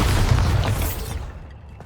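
Bombarda explosion spell cast in the video game Hogwarts Legacy: a single loud, deep boom that hits hard and fades quickly into a short rumble.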